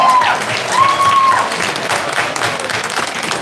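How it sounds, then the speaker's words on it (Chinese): A lecture audience in Cupertino applauds to welcome speaker Shen Po-yang: continuous loud, dense clapping fills the room throughout, with a faint high whistle-like tone early on. "咱来拍掌鼓励一下好无？"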